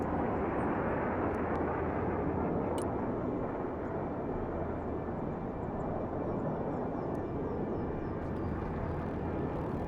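Aircraft engine roar from a plane flying overhead in the video game Broken Arrow, a steady, loud, broadband drone that fills the whole stretch with no talk.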